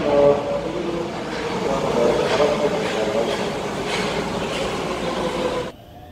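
A train in Japan rumbles steadily at moderate distance, a continuous rolling drone with faint rhythmic clatter that drops away abruptly near the end.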